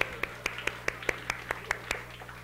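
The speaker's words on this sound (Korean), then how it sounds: "네, 박수." At a church middle-school worship service, a small group claps for a third-year student stepping up to join a game: about ten quick, evenly spaced claps in a steady rhythm, fairly faint against a low room hum.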